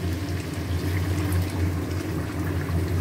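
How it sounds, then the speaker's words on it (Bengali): Hot water pours steadily into a cooking pot of vegetable dal with peas, a continuous close splashing and gurgling flow with no pauses and no talk. "গরম জল দিয়ে দিলাম।"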